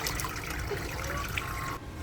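Coconut juice trickles steadily through a sieve, a continuous close liquid dribble that cuts off abruptly near the end.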